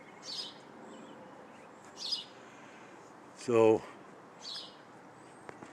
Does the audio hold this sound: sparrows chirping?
yes